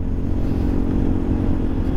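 An automatic Vespa scooter engine idles with a deep, throaty rumble from a loud aftermarket R9 Alpha series exhaust, steady and close.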